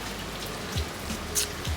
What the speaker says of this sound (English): if the rain just relaxed for a second